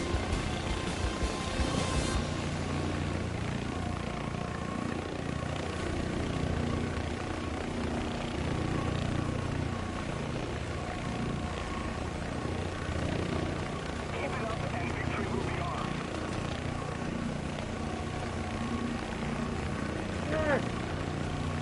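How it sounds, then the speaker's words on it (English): A steady RAH-66 helicopter rotor drone in War Thunder runs throughout, a continuous engine hum and chop, with occasional talking over it. "I'm going too hard and break my helicopter."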